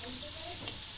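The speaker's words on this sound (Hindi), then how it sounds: "हम प्याज को हल्का ब्राउन होने देंगे।" Onions fry in a pan with a bright, continuous close sizzle and a faint stir midway, heard on their own over a short moment.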